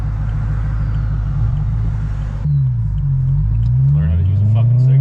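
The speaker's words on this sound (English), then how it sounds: "doing some pulls in the M3. The exhaust that we did." A BMW M3 with an aftermarket exhaust pulls hard, its loud engine rumble rising in pitch as it revs through the gears, heard from inside the car with voices nearby.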